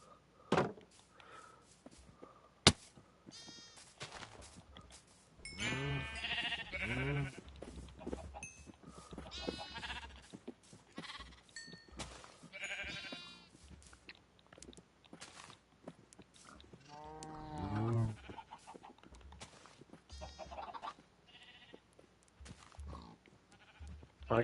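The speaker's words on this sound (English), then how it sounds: "I guess I didn't realize I had that many sheep." Many Minecraft sheep bleat in a survival game, with wavering baas arriving in clusters against quiet stretches, mixed with sharp clicks and blocky thuds of in-game actions.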